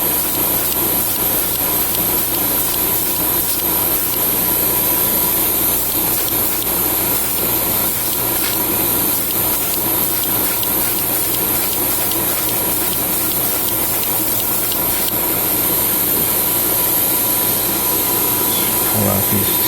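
Spray coat of paint on a Gundam model kit, MG Sazabi Ka, giving a steady, continuous hiss at close range that runs unbroken for the full stretch.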